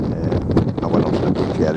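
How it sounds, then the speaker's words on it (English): Strong wind sweeps over the Harlech sand dunes, buffeting the microphone with a loud, rumbling roar and gusty rustle that never lets up. "The wind was really whipping up the sand."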